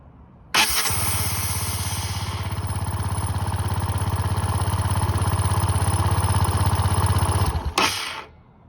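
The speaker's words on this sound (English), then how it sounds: "So that whine is the fuel pump." Honda SH150i scooter engine cranks and runs with a steady, loud mechanical drone and fuel pump whine, then cuts off near the end, close up with no talking.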